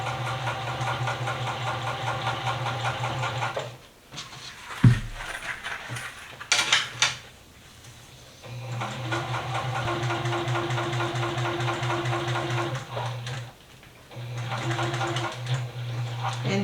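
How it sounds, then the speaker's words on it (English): A sewing machine stitches a clear vinyl zipper pouch handle with waterproof canvas, a fast, even mechanical whirr with rapid needle clatter in several runs separated by short pauses, close and steady. "now we're going to stitch along the other"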